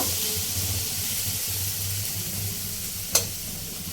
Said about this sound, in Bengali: সব সবজিগুলোই ভাজা হয়ে গেছে।